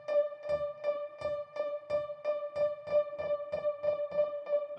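Synth piano melody through a tape echo delay plugin, a steady run of about a dozen soft repeated notes with echoes blurring together, quiet and unaccompanied.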